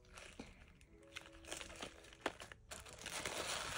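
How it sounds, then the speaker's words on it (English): Tissue paper from a Chanel holiday lipgloss gift set crinkles and rustles up close in soft, irregular bursts, quiet and alone. "And then there's some tissue paper."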